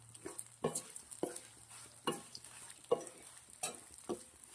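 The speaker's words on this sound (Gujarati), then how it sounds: "આવી રીતના ચમચાથી થોડી થોડી સેવ હું રાખું છું અને શેકું છું" Dry fruit sev roasts in a pan while a spoon stirs and presses it in repeated scraping strokes about every second, over a faint soft sizzle, quiet and close.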